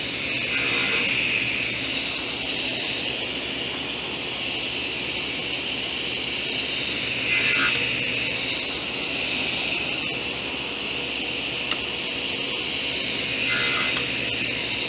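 A table saw runs with a steady high whine while wood pieces are cut on a miter sled; three brief louder cutting bursts rise over the hum, spaced several seconds apart, with no talk.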